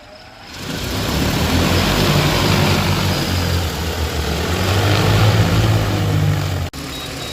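A DJI spray drone flies with its propellers droning loudly and steadily, rising at the start and holding a constant buzzing roar, with a brief dropout near the end.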